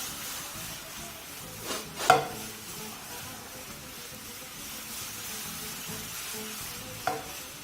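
Sliced bananas caramelize with sugar in a hot pan. A soft, low sizzle continues throughout, with a couple of brief utensil scrapes or stirs, no talk.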